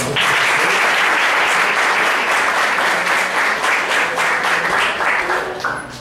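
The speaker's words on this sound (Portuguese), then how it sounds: "uma salva de palmas" An audience at a live class claps loudly to welcome a professor, dense continuous applause that starts at once and fades slightly near the end.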